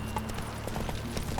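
Geralt's horse Roach trots in the video game The Witcher 3, hooves clip-clopping in a steady rhythm under a low background bed of game ambience.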